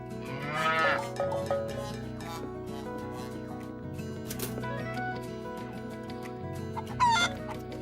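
A cartoon cow moos in a farmyard alongside clucking chickens, backed by a light musical score, with a distinct moo rising over the barnyard chatter.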